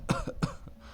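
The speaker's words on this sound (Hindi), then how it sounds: "खांसी आ गई विसर्ग बोलते बोलते।" Two quick, sharp coughs close to the microphone, followed by a faint third catch, in an otherwise quiet room.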